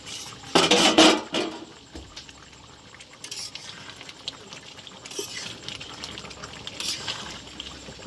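A metal lid rattles and clanks loudly against a cooking pot of chicken in a short burst, followed by quieter scattered knocks and a faint background hiss.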